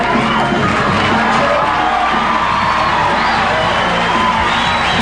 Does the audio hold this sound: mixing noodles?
no